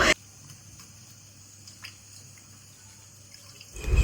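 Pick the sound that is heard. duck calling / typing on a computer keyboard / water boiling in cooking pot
water boiling in cooking pot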